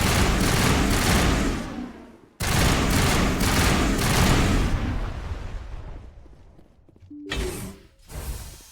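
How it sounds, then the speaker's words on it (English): Sustained gunfire and a grenade blast in a Mass Effect firefight, loud dense bursts broken by a sudden cut, then rolling fire that fades into a few sharp clanks. "A grenade."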